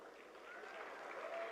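Audience applause at a youth leaders' dialogue event with the Prime Minister, a dense, steady wash of clapping that builds slightly and holds at a moderate level throughout, with no clear speech over it.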